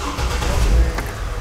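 A 2004 GMC Envoy with a cylinder misfire, its engine running and rumbling steadily up close, with a slight swell in the low rumble midway and no voices.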